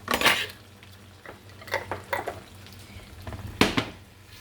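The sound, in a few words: stirring minced garlic into Alfredo sauce in a pan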